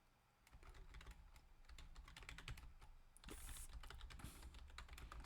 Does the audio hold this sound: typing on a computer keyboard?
yes